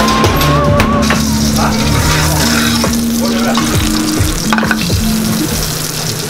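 Monkfish sizzles loudly in a hot, smoking pan, a dense continuous crackle with a steady hum and occasional clatter beneath it, close and constant throughout.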